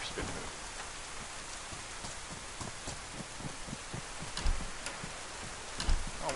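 Steady video game rain from DayZ hisses throughout with a soft patter of drops and a few brief thumps, fairly even in loudness, with no voices.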